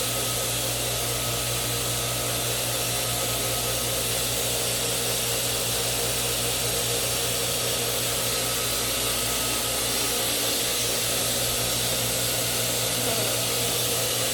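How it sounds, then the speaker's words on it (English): A washing machine in a house runs with a steady, loud mechanical drone and broadband whir, constant throughout with no talk. "The washing machine,"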